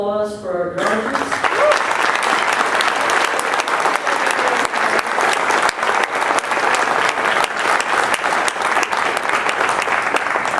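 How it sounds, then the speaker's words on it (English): Loud, sustained applause from a large audience at a graduate hooding ceremony, dense clapping filling the whole stretch without pause. "If we could have a round of applause for our graduates."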